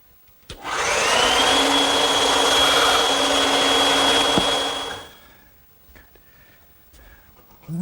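A table saw making tenon cheek cuts for a standing mirror frame, a loud steady whine as the blade runs and cuts for about four seconds, then spinning down into quiet with faint clicks.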